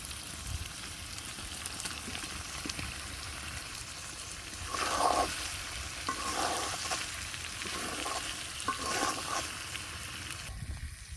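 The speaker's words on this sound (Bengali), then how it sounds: "মাংস প্রায় কষানো শেষ, এখন আলুগুলো দিয়ে দিব, তারপর একটু ভালো করে কষাবো।" Meat and potatoes sauté in a pan with a constant close sizzle, broken by scraping stirs and louder bursts of frying that come and go.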